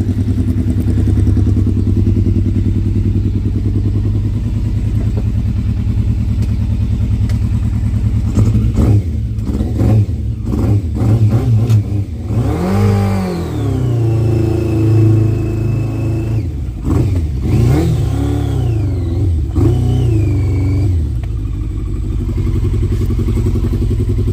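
A Yamaha Fazer motorcycle engine runs loud and close, a steady idle that is blipped into several rising and falling revs midway before settling back, with no talk.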